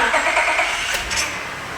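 A 2005 Honda Odyssey engine cranking and catching, heard up close as a brief, loud burst of broadband mechanical noise settling toward a rough idle, with no talking; a power steering fluid loss is noted on this van.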